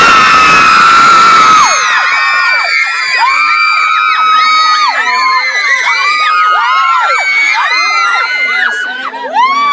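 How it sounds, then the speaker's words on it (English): A loud crowd of girls, One Direction fans, screams and shrieks continuously, many high overlapping voices rising and falling together without pause. "a whole bunch of screaming girls in here at the moment"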